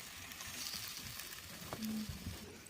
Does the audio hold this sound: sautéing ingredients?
yes